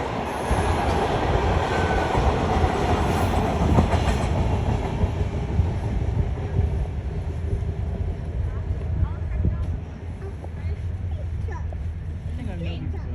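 A freight train rumbles past nearby with heavy rolling noise and occasional wheel squeal, gradually easing off toward the end as it stops.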